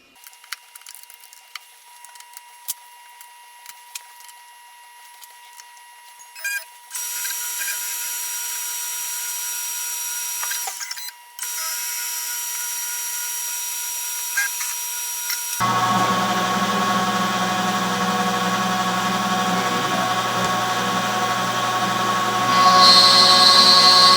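A CNC machine cuts a part for a drafting table repair: a quiet hum at first, then a steady high machining whine, a brief break, and finally a louder, rougher cutting roar that builds toward the end, with no talking.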